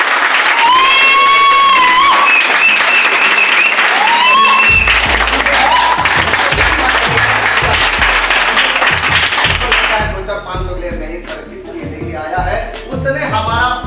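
Loud, dense applause from an audience at a venue closing event fills the whole stretch, steady and sustained, with a voice talking over it at first and thumping claps continuing to the end.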